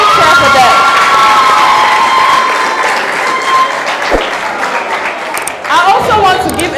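A crowd of children and adults cheers and applauds loudly at a school cultural dance event, shouts and whoops rising over steady clapping, with people talking throughout.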